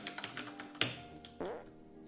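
Computer keyboard keys are pressed while playing a PC game, giving soft, close, irregular clicks and taps, with one sharper keystroke standing out.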